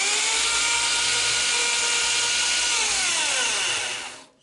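A drill cuts a hole while modifying a Moen cartridge puller, making a loud, steady high-pitched whine that runs for about four seconds before quickly spinning down.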